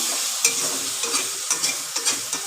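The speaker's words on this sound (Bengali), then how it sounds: "এবার আমি ভালো করে মশলাটাকে কষিয়ে নিই" Spice mix for an egg curry fries in a pan with sugar added, a steady sizzle broken by several sharp scraping stirs of a spoon, close and fairly loud, with no talking.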